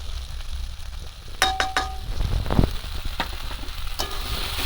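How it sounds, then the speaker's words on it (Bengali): Vegetables sautéing in a pan with mustard paste and chili powder for a Bengali fish curry with Malabar spinach, a steady sizzle with a few sharp clanks and scrapes of a spoon partway through. "লঙ্কাটা ভালো করে কষিয়ে দেবো"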